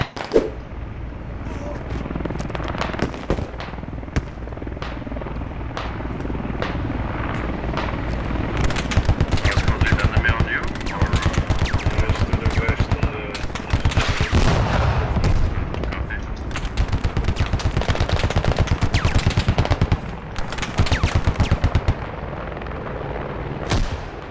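Rapid gunfire bursts and booming shots from the military shooter game Squad crackle almost continuously over a steady helicopter rotor drone, loud and dense throughout.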